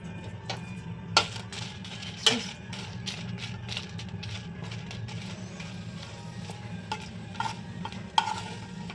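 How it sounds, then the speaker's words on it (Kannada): Dried red chillies roasting in coconut oil in a pan for Mangalore biscuit rotti masala, a soft steady sizzle with occasional sharp clinks and scrapes of stirring, close up and without talk. "ಅದಕ್ಕೊಂದು 5 ಸ್ಪೂನು ತೆಂಗಿನೆಣ್ಣೆ ಹಾಕುವ. 6-7 ಮೆಣಸನ್ನು ತಗೊಂಡಿದ್ದೇನೆ, ಅದನ್ನು ರೋಸ್ಟ್ ಮಾಡುವ."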